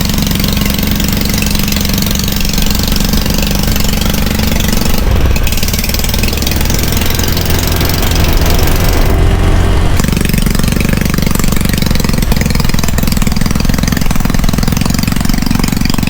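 A vehicle engine runs steadily at low speed while slowly hauling long roofing material on a farm, a loud, continuous mid-pitched drone with slight knocking throughout.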